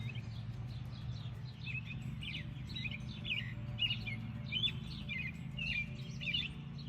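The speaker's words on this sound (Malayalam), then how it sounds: "കിളികളുടെ കളകളാരവം" Several small birds chirp and tweet in quick, scattered bursts through a spring walk outdoors, fairly near, over a steady low rumble of background hum; no one speaks.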